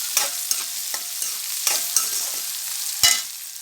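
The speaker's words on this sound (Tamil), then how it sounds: "நல்லா வதங்கட்டும்" Onions fry in a pan for coconut sambal with a steady sizzle, broken by several sharp clinks and scrapes of a spoon stirring.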